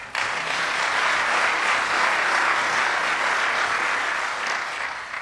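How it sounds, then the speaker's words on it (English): Sustained audience applause at a governor's press event on casino gaming, a dense steady wash of many clapping hands, loud and close, continuing evenly without speech. "again another round of applause"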